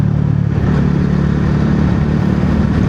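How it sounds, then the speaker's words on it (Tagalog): A motorcycle on a ride through a city with pine trees, its engine running loud and close in a steady, continuous drone with wind and road rumble throughout. "Ganda pala magmotor dito."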